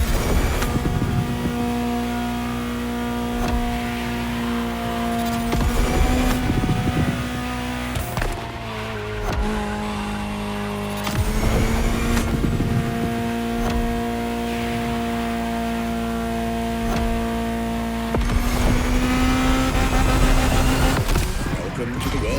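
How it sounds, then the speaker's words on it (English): A Ferrari supercar engine in the racing video game The Crew Motorfest, revving and holding steady high-pitched tones with repeated gear shifts and surges, loud and continuous, with brief voice moments in between. "Just listen to the car you're driving"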